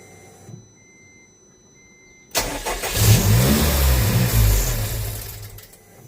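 A Honda Integra converted to a K20C1 engine cranks and fires up about two seconds in, then runs roughly and unevenly at a rough, struggling idle, loud and close, with no talking.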